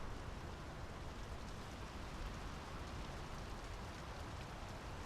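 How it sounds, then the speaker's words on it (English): Steady rain falls in the video game Draugen, set on a Norwegian coast, a dense, even hiss of drops on surfaces that carries on unbroken and fairly soft, with no voices. "The rain's picking up."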